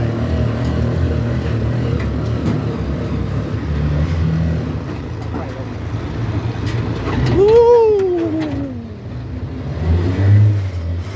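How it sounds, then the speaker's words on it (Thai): Small 150cc motor tricycle engine idling, then pulling off in first gear: a steady low chug rises into a whining rev as it moves away, with people talking over it. "แล้วเข้าเกียร์หนึ่ง อ่าเข้าเกียร์หนึ่งเลย ใอ้เกียร์ต่ำตลอดนะ"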